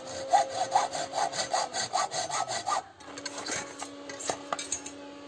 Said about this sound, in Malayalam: അപ്പോൾ അത് നമുക്ക് ഇതേപോലെ കട്ട് ചെയ്ത് ഒഴിവാക്കി കഴിഞ്ഞാൽ നമുക്കത് ഒഴിവാക്കിയെടുക്കാം